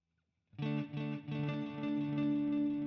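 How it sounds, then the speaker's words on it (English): A clean, sustained electric guitar lead in a folk rock production rings out after a brief silence, its notes repeating and bouncing side to side as ping-pong delay echoes that trail behind each phrase. "Let's throw a delay on as well, and we'll make it ping pong."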